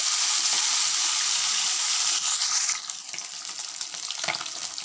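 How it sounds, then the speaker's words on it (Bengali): Fish pieces fry in a pan with a loud, bright hiss that drops to a softer, uneven sizzle partway through, with a few crackles near the end and no talking. "সব মাছগুলো ভেজে নিচ্ছি আমি"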